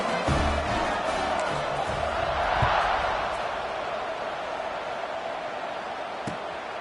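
Stadium crowd noise in the College Football 25 video game, a steady, dense roar with broad wash and occasional sharper bursts, loud and continuous throughout.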